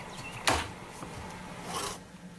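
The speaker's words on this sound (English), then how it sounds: "Filing a chainsaw chain like this is so easy." A hand file drawn across the teeth of an 18-inch chainsaw chain, faint raspy strokes with one sharper scrape near the start and a longer rub later, quiet and close with no voice.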